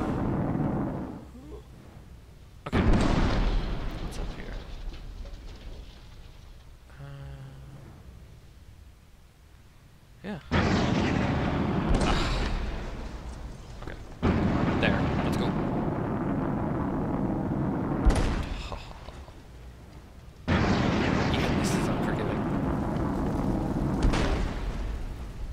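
Loud rocket mine blasts in the video game Marlow Briggs and the Mask of Death, several heavy booming bursts a few seconds apart with rumbling tails, with someone talking between them.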